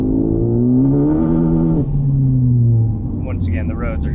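A 10th gen Honda Civic with a resonated cat-back exhaust rumbles with a slightly raspy drone, rising slightly and then settling as the revs ease off, heard close. A voice speaks briefly near the end.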